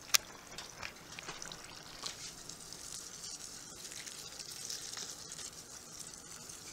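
Strike water is poured onto grain during a homebrew mash dough-in, making a soft, steady trickling and splashing wash, fairly faint and continuous, with a sharp click at the start.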